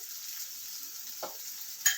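Quiet pan sizzle with a couple of short scraping strokes as cumin, turmeric and salt are stirred for a gram-flour curry, soft and close.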